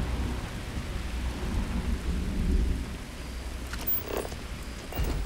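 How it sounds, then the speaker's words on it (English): Steady rain and rumbling thunder in the science-fiction game Starfield, with a low rolling wash running through and a couple of brief sharper crackles near the end, no voices. "What? It's raining?"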